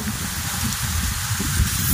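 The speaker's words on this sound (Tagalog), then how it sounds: "spray naman ng fungicide" A sprayer applying fungicide over an onion field gives a steady, close hissing spray that runs unbroken throughout, with a low rumbling undertone and no voices.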